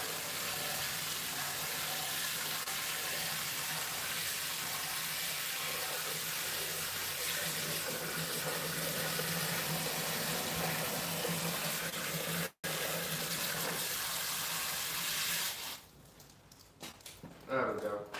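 Tap water gushes steadily into a bucket for mixing plaster, a broad constant rush lasting most of the stretch, then cutting off near the end with a few drips and knocks; people talk nearby.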